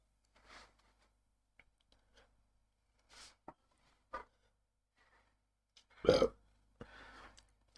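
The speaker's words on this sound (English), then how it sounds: "Oh, that burp tasted like it." A single loud burp after eating an extremely spicy chip, a short harsh eruction standing out near the end among quieter breaths and small mouth sounds, with no talking.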